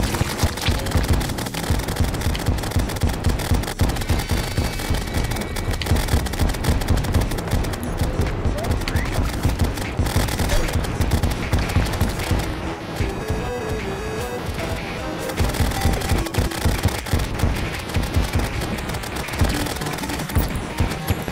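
Rapid, relentless gunfire from a gun in Terraria Calamity, firing in a dense rhythmic stream for a long stretch with scattered impact crashes mixed in, loud and continuous.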